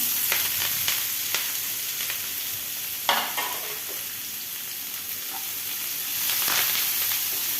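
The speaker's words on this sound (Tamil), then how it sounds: "கட் பண்ணி வச்சுருக்கிற பெரிய வெங்காயமும் அது கூட கருவேப்பிலையும் சேர்த்து வணக்கிக்கலாம்" Sliced big onions and curry leaves sauté in hot oil in a pan, producing a constant close hiss and sizzle. Occasional sharp scrapes and clatters of a stirring spoon break through.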